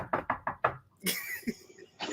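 Four sharp knocks on a door in quick succession, close and loud, followed by a brief rustle and faint sounds.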